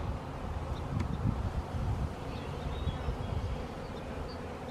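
Honey bees buzzing around an open nuc box while frames are handled, a steady dense low hum with a few individual bees passing close by.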